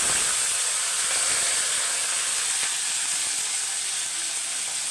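Mustard seeds, curry leaves, green chillies and garlic sizzle in hot oil with a steady, close hiss that stays even throughout, with no voices.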